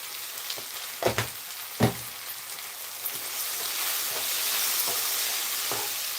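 Chili powder is stirred into an okra and tamarind curry in a pan, with a soft, steady sizzle of frying. A few sharp clinks and scrapes from the spoon against the pan stand out early on.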